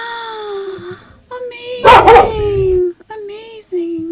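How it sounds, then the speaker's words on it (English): A dog barks and yelps in a loud burst near the middle, with people talking before and after. "Sorry for the barking."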